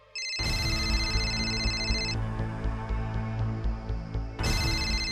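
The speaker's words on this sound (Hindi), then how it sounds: "किसका फोन है?" An electronic phone ringtone trills in repeated bursts with a short pause between, loud and close, over a low background hum.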